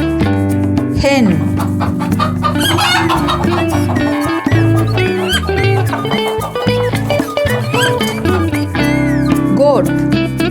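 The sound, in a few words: hen clucking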